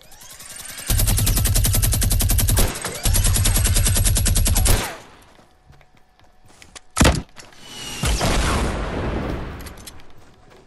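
A minigun in Fortnite fires in two long, rapid bursts with a brief gap between them, followed by scattered single shots, thumps and a loud bang.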